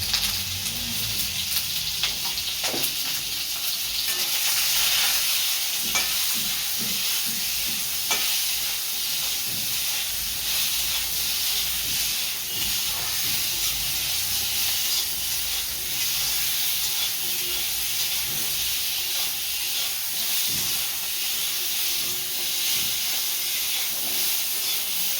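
Pieces of pointed gourd frying in oil in a pan, giving a loud continuous hissing sizzle throughout with occasional clinks and scrapes of stirring.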